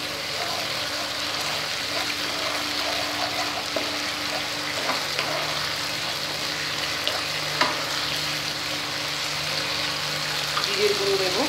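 Tomato puree frying and being stirred in a pan for chenar dalna, a steady sizzling hiss beneath scattered soft spoon scrapes, close and fairly loud throughout.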